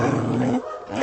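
Dogs on a farm, a short low growling snarl that drops out briefly and then resumes, close and fairly loud, used as an audiobook sound effect.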